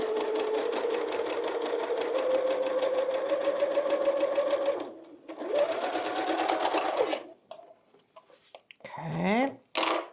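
A sewing machine stitches fabric pieces together for a Christmas quilt block, running loud and fast for about five seconds, pausing, then running again in a shorter burst, followed by brief fabric handling sounds.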